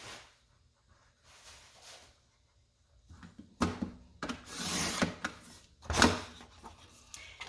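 Paper trimmer slicing paper for a scrapbook layout, quiet handling and faint rustles at first, then a few sharp close cutting swipes and slides, no voices.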